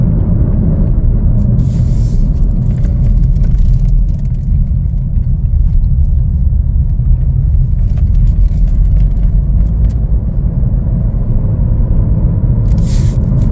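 A 2025 Chevrolet Trailblazer AWD LT accelerating on a road, heard from inside the cabin as a loud, continuous low engine and road rumble with a steady whir throughout.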